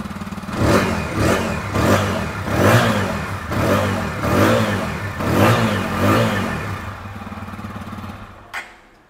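A TVS Apache glossy black edition motorcycle revs repeatedly at close range, with about seven rhythmic throttle blips rising and falling over a steady idle before a sharp click at the end.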